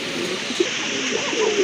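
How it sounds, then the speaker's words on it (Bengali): A pair of Lahori pigeons with pink beaks coo, soft low murmuring calls at close range, repeated a few times over a steady background hum. "খুবই সুন্দর গোলাপি ঠোঁটের কবুতর।"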